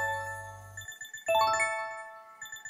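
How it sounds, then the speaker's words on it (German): Chiming bell jingle from the hospital game Hartz Medizin 4 (Heart's Medicine Doctor's Oath), a bright tonal ring that swells after a brief low hum and repeats in soft tinkling notes, fairly quiet with no talk. "Ich hoffe, ihr hört gerade die Glocke läuten"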